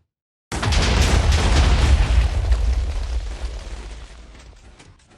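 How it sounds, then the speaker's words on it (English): Large explosion from TNT minecarts in Minecraft, a single loud blast bursting in after brief silence, then a long rumbling decay that fades over several seconds with no voices. "as you can see, with a really big explosion"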